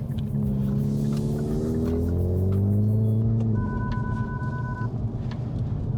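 A 2021 Hyundai i30N with a dual-clutch gearbox revs loudly and shifts down, its close engine note falling and rising through a series of distinct downshifts over a steady rumble.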